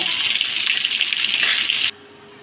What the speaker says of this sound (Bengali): মাছটি দেখেন লাল করে ভেজে নিয়েছি। এবার ওই পাশটাও ভেজে নেব।